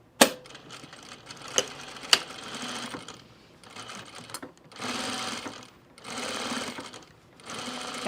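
A sewing machine stitches fabric for a project bag in several quick runs, a fast steady mechanical whir with sharp clicks at the start, pausing briefly between bursts, close and moderately loud.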